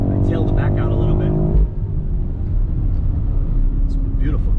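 A BMW 760i xDrive with a twin-turbo 4.4-litre V8 drives along with a steady low engine rumble and road noise, with someone talking over it for the first part before the drone continues alone.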